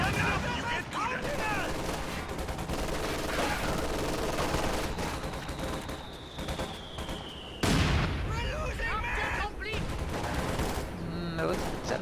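Incendiary artillery fire in a war video game: a dense, continuous barrage of gunfire and booming blasts with sharp bursts, one heavy impact partway through, and a whistling tone sliding beneath it, while voices talk over the noise.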